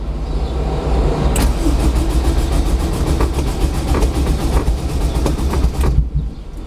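A turbo Honda S2000 running on only three cylinders cranks with a rapid, rhythmic starter chatter, close and loud, for several seconds before the sound cuts off near the end.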